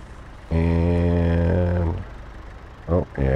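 A tractor engine running during hay baling: a loud, steady mechanical drone with strong harmonic tones holds for over a second, drops away, then surges back in short bursts.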